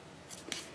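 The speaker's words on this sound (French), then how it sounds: "on plie et on coupe et on coupe" Scissors make two short snips through folded paper, close by and quiet, with no talk over them.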